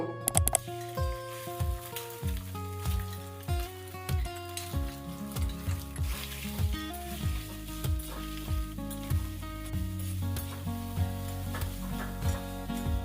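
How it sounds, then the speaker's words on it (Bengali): Boiled soybean chunks fry in mustard oil with a soft, quiet sizzle and occasional stirring clicks, low beneath a melodic background tune throughout. "এবার আমি সেদ্ধ করে রাখা সয়াবিনগুলো ভেজে নেব"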